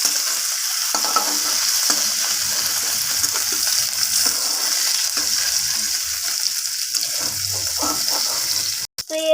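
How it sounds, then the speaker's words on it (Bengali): Okra and bitter gourd fry in mustard oil in a wok, a steady close hiss of sizzling oil with occasional stirring scrapes, ending in a sharp clatter. "এখানে আমার ভেন্ডি আর উচ্ছেটাকে লাল লাল করে ভাজা হয়ে গেছে"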